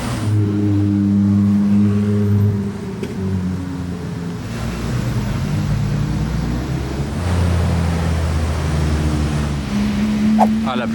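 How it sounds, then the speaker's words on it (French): A car downshifts on a Monaco street, engine tones stepping and sliding in pitch as revs rise and fall, heard loud and close amid street noise and passing traffic, with a voice talking over it. "Petit downshift."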